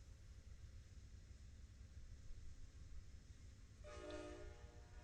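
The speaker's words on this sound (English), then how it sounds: "Oh, hey, there's a train." A train in the Trainz railway video game sounds a single horn blast, faint and distant, partway through over a steady low background hum.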